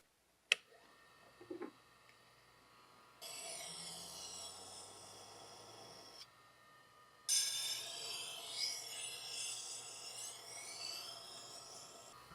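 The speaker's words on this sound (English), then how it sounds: "now we're just going to flip the Tormek around and sharpen the other side." A kitchen knife is sharpened on a Tormek T-1 electric sharpener: a faint steady motor hum with a soft grinding rasp that turns brighter and louder partway through, after a snap and a few handling knocks at the start.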